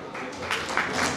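Audience applause at an award ceremony for writers, thinkers and artists, a steady wash of clapping from a hall crowd that swells slightly as it continues.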